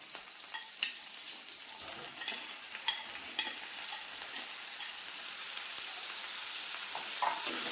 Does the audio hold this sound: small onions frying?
yes